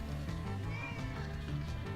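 A pet cat named Lily meows insistently indoors, a drawn-out, wavering yowl heard at moderate volume over steady background hum.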